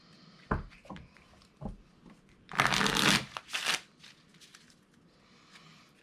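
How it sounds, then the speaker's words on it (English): Board game artifact cards being shuffled together, a few light taps and flicks followed by two loud riffle shuffles in quick succession, close and without talking. "we're going to shuffle them together."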